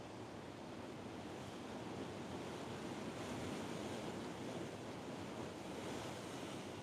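Steady ocean surf washes continuously with a broad rushing roar and some wind buffeting the microphone, with no voices.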